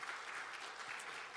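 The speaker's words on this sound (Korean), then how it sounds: "우리 박수로 환영하겠습니다" A church congregation claps in steady, dense applause to welcome a visiting missionary family, the sound full and continuous throughout.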